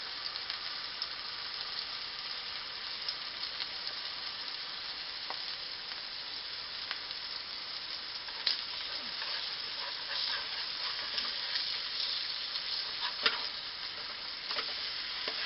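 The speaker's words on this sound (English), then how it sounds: "you can see that the peppers and onions are cooking pretty well" Steak with peppers and onions sizzling in a frying pan, a steady close hiss with occasional pops and crackles throughout, no talk.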